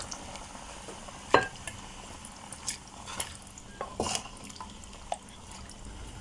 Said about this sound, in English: Now add in the sugar beans with some of its broth.